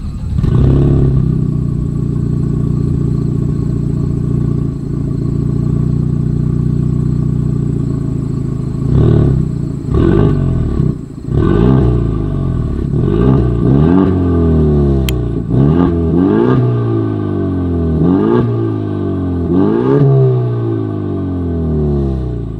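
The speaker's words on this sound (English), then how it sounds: "As always, here is that exhaust clip." A 2024 Ford Mustang EcoBoost idles with a low, steady rumble, then revs hard repeatedly, the exhaust roaring up and dropping back in a series of sharp blips.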